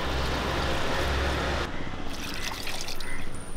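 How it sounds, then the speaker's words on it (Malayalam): Water pours into a cooking pot while paal kappa (tapioca in milk) is being prepared, a close, continuous splashing trickle that shifts in tone partway through as the pot fills. "ആവശ്യത്തിനുള്ള വെള്ളം കൂടെ ഒഴിച്ചു"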